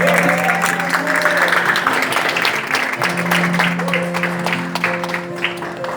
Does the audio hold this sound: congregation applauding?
yes